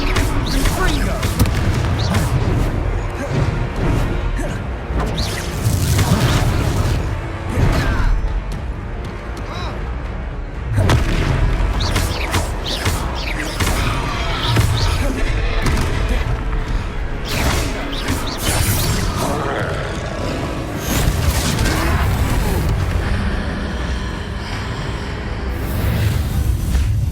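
Fire spell explosions from Confringo in the video game Hogwarts Legacy, repeated booming blasts and crashes during a troll fight, loud and dense throughout, mixed with game voices and battle noise.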